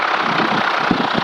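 A small airplane's piston engine throttled back to idle, a steady low rumbling drone with faint knocking pulses, close and continuous with no talk.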